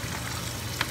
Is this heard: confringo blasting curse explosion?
no